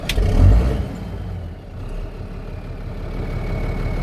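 A repaired Zetor ZTS 16145 tractor engine runs with a steady low diesel rumble after a brief louder burst at the start, sounding close and continuous, with no talking.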